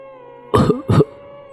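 An old woman coughing twice in close succession, loud and near, two short harsh bursts against a faint steady hum.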